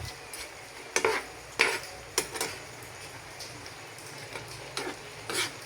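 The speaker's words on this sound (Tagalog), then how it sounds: "Haluin lang natin." Ginataang sardines with eggplant and squash are stirred in a pan, with a few spaced metallic clinks and scrapes over a low simmering hiss, close and moderately loud, no voices.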